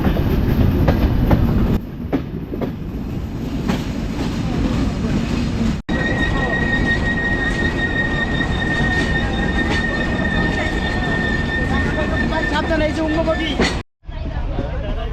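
A passenger train runs on rails on the way toward Pakshi near the Hardinge Bridge, giving a loud, steady rumble with squealing wheels and a sustained high whine, heard up close from inside the carriage with speech mixed in.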